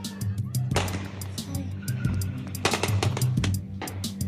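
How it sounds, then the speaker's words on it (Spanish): Gunshots ring out during an attempted robbery in San Miguel, Chile: a series of sharp, fairly distant cracks over a steady background hum and commotion. "Hubo disparos"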